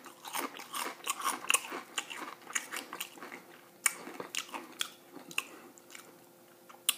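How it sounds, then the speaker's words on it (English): Hot Doritos chips, a thicker-textured variety, crunched while eating, with sharp close bites and chewing crunches repeating in an irregular rhythm, loud and near, no talking. "I hope the crunching and everything suits your fancy."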